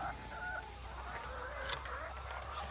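Chickens cluck softly in the background at the Manu biological station, over a low rumble of ambient noise, with a few faint, scattered calls.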